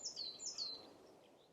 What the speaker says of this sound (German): Man hört vielleicht nur so die Vögel zwitschern